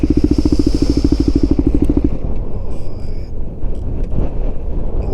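Strong wind buffets the microphone during a ride on a KTM 250 motorcycle, a loud, rough rumble of air and engine close by, with the engine's regular pulsing fading partway through.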